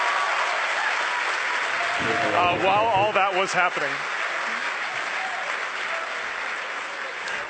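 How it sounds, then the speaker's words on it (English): Crowd cheering and applauding at SpaceX headquarters in Hawthorne during a rocket launch, a loud continuous roar with whoops, while a voice briefly speaks over it partway through. "The crowd's going nuts here at SpaceX headquarters in Hawthorne."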